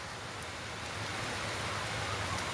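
Heavy morning rain falls steadily on a village, a dense, even hiss without breaks, fairly faint and uniform throughout.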